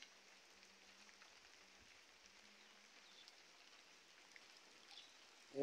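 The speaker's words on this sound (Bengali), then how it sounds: "সারাদিন বৃষ্টি হচ্ছে।" Steady, faint rain falling over a flooded playing field in Khalishpur, Khulna, a soft even patter of drops with a low hum underneath and a brief louder bump at the very end.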